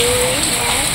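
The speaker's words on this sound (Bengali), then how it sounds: "এই দেখো কেমন বৃষ্টি" Heavy rain pours down hard in a dense, steady hiss that fills the whole moment, close and loud.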